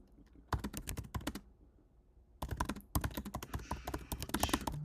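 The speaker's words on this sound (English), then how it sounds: "I'm kind of typing in what I do at the gym" Fast bursts of typing on a computer keyboard, close and crisp, with a pause of a second or so between two runs of keystrokes.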